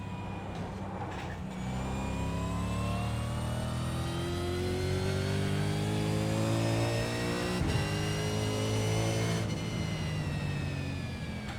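Racing car engine in the iRacing video game revving through downshifts, a loud, close, whining engine note with clear harmonic sweeps that fall and rise, alone without talk.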